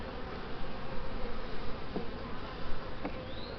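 A honeybee colony in an overwintered eight-frame hive, busy drawing comb, hums with a dense, steady buzz close up. Occasional louder individual bees pass near, and no one speaks.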